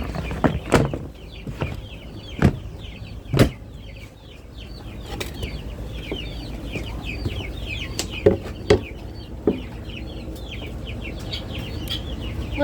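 Chickens, with chicks among them, cluck and chatter continuously at feeding time, loud and close, over sharp knocks and scattered thumps, with wings flapping now and then.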